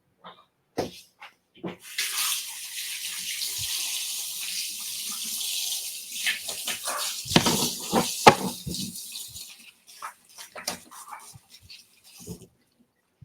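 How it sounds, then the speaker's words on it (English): Hands washed under a running kitchen tap while raw pork is being prepared: a steady splashing stream of water for several seconds, broken by rubbing and splashes, then the tap shuts off and a few scattered clunks follow. "let me wash my hands real quick"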